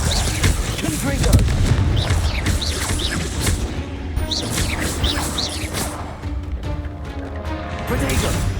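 A Confringo spell blast in the video game Hogwarts Legacy, heard as loud booming explosive bursts mixed with crackling game effects and background music, with a voice calling out spell names.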